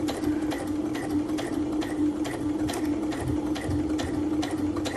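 Steady, rapid mechanical chatter of a sewing machine stitching a cross stitch bookmark, a loud continuous hum with evenly repeating needle strokes running throughout at a moderate pace.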